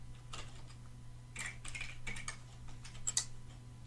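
Keys clack on a computer keyboard as a password is typed into a Windows 10 setup screen, with several quick bursts of keystrokes spread across a few seconds, close and fairly quiet, with no talking.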